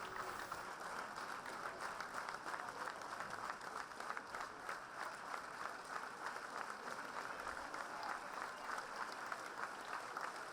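Dense, sustained applause from a full hall at the end of a concert by a girls' singing group, steady and even throughout, heard somewhat distantly with no voices.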